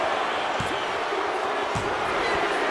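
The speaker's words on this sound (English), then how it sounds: "Just listen to this crowd." Steady roar of an arena crowd at a WWE 2K26 video game six-man tag wrestling match, filling the whole clip with a dense, even wash of cheering and a few sharp thuds.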